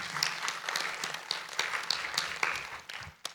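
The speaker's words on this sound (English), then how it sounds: "let's thank the speaker again" A modest conference audience claps after a cryptography talk, a fairly faint, scattered patter of hands lasting a few seconds.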